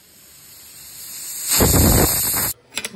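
A pressure cooker that has been cooking tomatoes vents steam as a loud, steady hiss for about a second, then cuts off abruptly. A few faint clinks follow.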